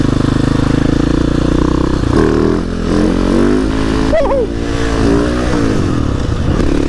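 A motorcycle engine accelerates hard up close, holding a loud steady drone before dropping and climbing again through a gear change, with the rider speaking briefly over it.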